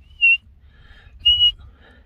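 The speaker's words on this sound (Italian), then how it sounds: "Queste dovrebbero essere le marmotte fischianti." Alpine marmots at Passo Pordoi in the Dolomites give two sharp, high whistles about a second apart, each short and clear over a low outdoor rumble.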